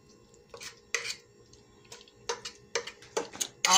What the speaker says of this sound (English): And now I'm stirring.